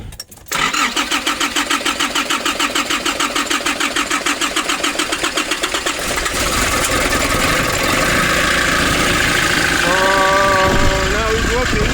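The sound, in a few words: 2005 Nissan Urvan diesel engine starting after years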